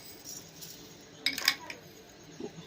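A spoon clinks against a pan and sugar container as four spoonfuls of sugar go in for caramel pudding, a few faint, bright metallic taps in a quiet kitchen with soft background talk.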